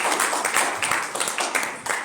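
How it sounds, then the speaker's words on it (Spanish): A church congregation applauding during a service, a fairly soft, continuous patter of many hands clapping with uneven bursts, heard from some distance. "Dele un aplauso a Jesús"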